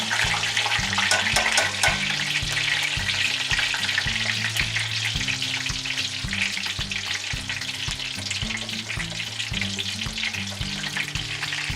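Chicken pieces fry loudly in hot oil, a dense steady sizzle running throughout with rhythmic low clatter as pieces are turned in the pan.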